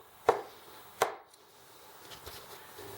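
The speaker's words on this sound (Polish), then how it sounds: "teraz po prostu je kroję na mniejsze takie kawałki" A knife cuts rolled potato dough for Silesian dumplings into small pieces on a board, two distinct sharp chops about a second apart followed by faint soft taps.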